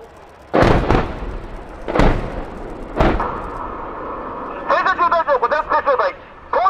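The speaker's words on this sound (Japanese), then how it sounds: "この爆薬ブロックの爆発で地雷を爆破処理して戦車用通路を一挙に開設することができます" Scaled-down explosive blocks from a mine-clearing rocket detonate during a military drill: three sharp, loud blasts about a second apart, each with a rumbling tail, followed by a burst of warbling, chirping tonal sounds.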